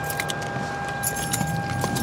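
Keys jangling close by as they are picked up in a parked car, a light metallic jingling with several small chiming clinks over a low steady background hum.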